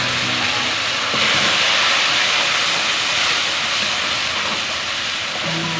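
Garlic ginger paste sizzles in a pan with golden-browned onions, a loud steady frying hiss that runs without a break.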